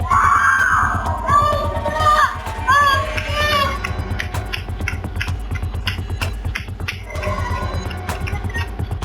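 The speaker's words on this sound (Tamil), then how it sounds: "இந்த சிறுமியின் அலறல் சத்தம் கேட்கும் போதே நெஞ்சம் பதறுகிறது" A 16-year-old girl lets out high, wavering screams over the first few seconds, amid clattering noise and other voices that continue afterward.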